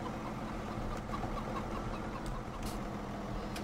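Chickens cluck faintly in Farming Simulator 17 on the Pacific Northwest map, their brief calls sitting under a loud, constant idling engine drone that fills the whole stretch.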